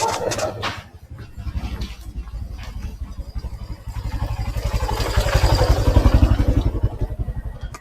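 A small motorized tricycle passes close by on a city street, its putting engine rising to a loud rattling peak and then fading, with clattering and scraping mixed in and no talk.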